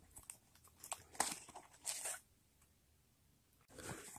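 Oil filter media from a Purolator Boss, Wix XP or Napa Platinum filter being cut, giving scattered crisp snips and crunchy rustles close by, a few louder bursts, then a quiet pause before more cutting.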